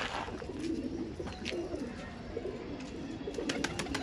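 Desi pigeons coo in low, throaty bursts, a steady murmuring chorus from several birds close by, with a few sharper chirps scattered through it.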